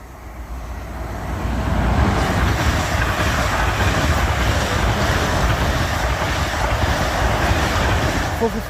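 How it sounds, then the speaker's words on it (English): A South Western Railway passenger train from Poole to London Waterloo rushes past nearby, a loud broadband roar of wheels and air that swells within two seconds and holds steady as the carriages keep rolling by. "South Western Railway service from Poole to London Waterloo."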